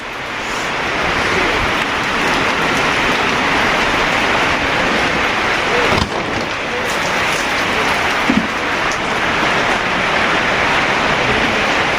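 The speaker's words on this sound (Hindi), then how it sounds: "बाहर बहुत तेज बारिश हो रही भाई" Heavy rain pours down outdoors at night near Kedarnath, a loud, steady roar of water that never lets up, with a couple of faint knocks and thuds in the background.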